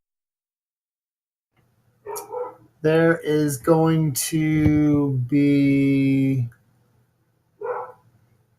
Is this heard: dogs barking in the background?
yes